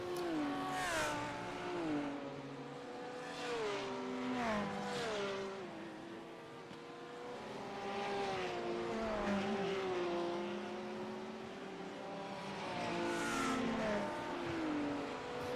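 Race cars lapping the Nürburgring in iRacing, including a Lamborghini, with steady loud engine whine rising and falling through gear changes as several cars run close together, unbroken throughout.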